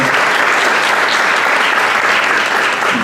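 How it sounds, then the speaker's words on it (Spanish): An audience at an education reflection day applauds with loud, dense, sustained clapping that fills the room evenly from start to finish. "les voy a pedir a todos los presentes un aplauso muy grande"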